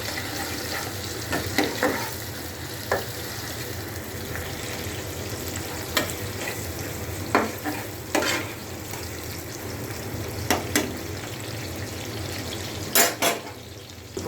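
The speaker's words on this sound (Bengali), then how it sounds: "এই যে পেঁয়াজগুলো ভাজা হচ্ছে" Onions frying in oil in a pan for a tomato chicken curry, a steady close sizzle with repeated clinks and scrapes of a spoon stirring against the pan, no voices.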